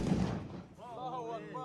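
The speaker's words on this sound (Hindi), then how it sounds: "आतिशबाजी जी पटाखे बजा रहे हैं भाई" Firecrackers going off at a nighttime qawwali function: a dense burst of loud, booming cracks in the first half second, then fading rumble as people talk in the background.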